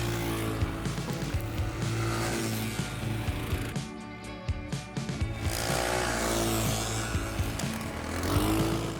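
Dingo motorsled riding through a blizzard, its small engine droning loudly and steadily close by, with the pitch rising and falling as the throttle changes.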